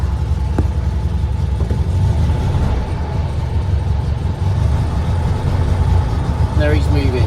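A VW Beetle with patina, just put in gear during clutch adjustment, rolls forward with a steady low engine rumble close by; the drone runs throughout at a fairly loud level while people talk.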